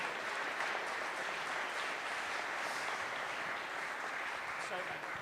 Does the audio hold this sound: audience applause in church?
yes